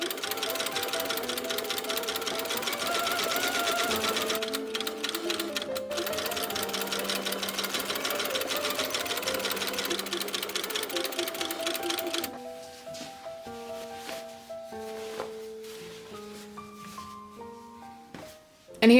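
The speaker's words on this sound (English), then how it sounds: "here I'm just sewing with like a stitch in the ditch method, where I am sewing the two outer fabric and lining together along the seams" A sewing machine runs stitch in the ditch along the seams of a corset, joining outer fabric and lining in steady, rapid mechanical bursts that continue nearly throughout, with a brief pause midway and no talking.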